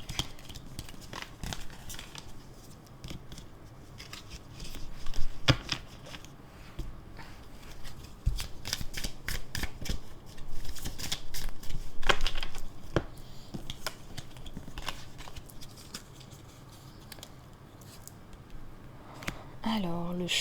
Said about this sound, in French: Je vais ranger ces cartes.